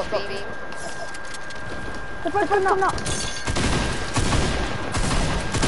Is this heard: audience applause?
no